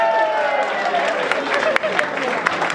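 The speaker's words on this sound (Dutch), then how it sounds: "Dus ik wil graag een hartelijk applaus voor Dean Sanders." An audience applauds warmly as a performer is introduced at an evening show, a dense stretch of clapping with sharper individual claps poking through, and voices talking over it.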